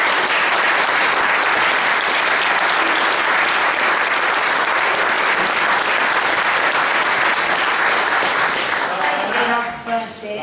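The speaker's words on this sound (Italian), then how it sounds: "voglio un applauso doppio perché è una giovane indipendentista" Loud, dense applause from an audience welcoming a young Venetian independence activist at a political gathering, steady for about nine seconds before thinning out and fading at the end.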